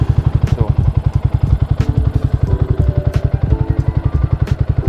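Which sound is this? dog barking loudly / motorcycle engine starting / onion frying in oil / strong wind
motorcycle engine starting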